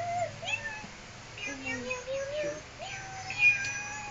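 A domestic cat gives several short meows, fairly close and soft, scattered among quiet voices of people talking nearby; one voice may be imitating the meows.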